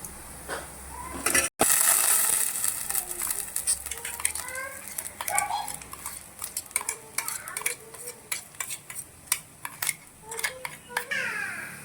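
Coarsely ground masala for a long beans palya is stirred into hot tempering, with scraping and clinking of a spoon against the pan in an irregular rhythm, close and fairly loud, with no talking.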